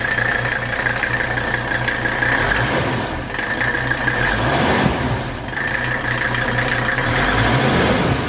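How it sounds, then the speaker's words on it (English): A 1981 Mercedes 300SD diesel engine idles close by, a smooth continuous rumble with even low-pitched pulsing and a faint whine, with no voices over it. "Those things sound fantastic. And that engine is very smooth."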